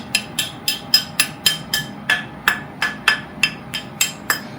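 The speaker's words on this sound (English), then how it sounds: "then you're going to use a soft hammer, a mallet" A rawhide mallet strikes a silver piece resting on a bar, with about seventeen crisp, evenly paced blows close by and a faint hum underneath.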